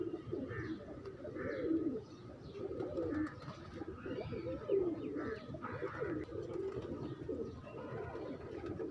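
Teddy pigeons coo in a low, soft rolling rhythm, several repeated calls at close range over a quiet background, with faint chirps mixed in.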